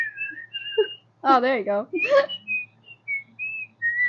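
A person whistles a bird-like tune, high warbling notes in short phrases that come and go, with people talking in between and over parts of it in a quiet room.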